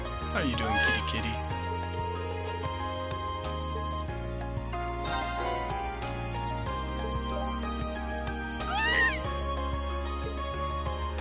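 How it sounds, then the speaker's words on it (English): A cat in the video game Trails of Cold Steel gives two short, high meows, one early and one near the end, over steady background game music. "How you doing, kitty kitty?"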